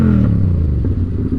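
A motorcycle engine revs on steady throttle during a clutch-up wheelie, a loud close drone that holds throughout, with a slight dip toward the end and no talking.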